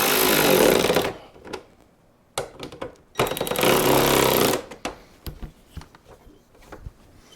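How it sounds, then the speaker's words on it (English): An impact-style power tool drives bolts while parts go back together during vehicle prep, with two long loud rattling bursts, then several short taps and clanks close by, and quiet gaps between them. "Now we're getting ready to start bolting everything back together."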